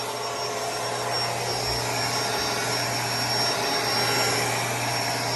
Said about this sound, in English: the head on the Bissell Pet Hair Eraser swivels